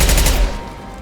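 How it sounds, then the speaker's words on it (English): A short, loud burst of submachine gun fire in Mass Effect 2, rapid shots that cut off after half a second and leave a fading ring. "Submachine gun, yeah, SMG."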